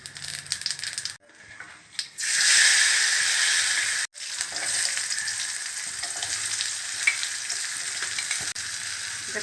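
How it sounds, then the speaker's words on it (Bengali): Panch phoron spices hit hot oil with a loud, bright hissing sizzle that surges, cuts out briefly, then resumes as a steady close crackle with faint stirring. "ফোড়নটা তেলের মধ্যে দিয়ে দিলাম।"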